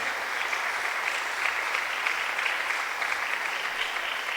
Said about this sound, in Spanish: dale un fuerte aplauso a Cristo